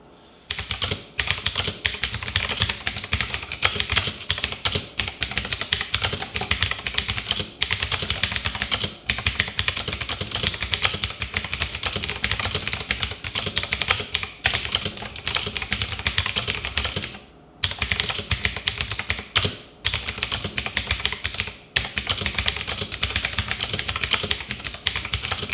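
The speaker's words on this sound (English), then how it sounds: "Let's hear the sound of the switches," Someone types continuously on a Marvo KG934 mechanical gaming keyboard with Outemu Blue switches. The fast, dense clicky keystrokes run close and loud for about twenty-five seconds, broken by a few brief pauses.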